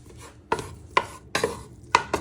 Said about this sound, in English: You want to start breaking that up so it starts to sizzle.